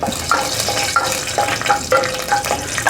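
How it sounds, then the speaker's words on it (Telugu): Whole spices, shahjeera, cinnamon, cardamom and cloves, sizzling in hot oil for rajma curry, a close crackling hiss with repeated light clinks and stirring scrapes in an uneven rhythm. "నూనె కాగిపోయింది సాజీరా చెక్క ఇలాచి లవంగాలు వేసి ఒక్కసారి"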